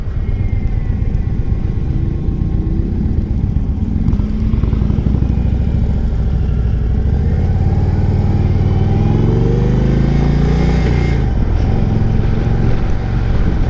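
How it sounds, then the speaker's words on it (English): Indian Sport Chief motorcycle engine rumbling steadily while being ridden, loud and continuous with gear-like pitch changes and heavy wind noise over the microphone. "I like the rumble on this."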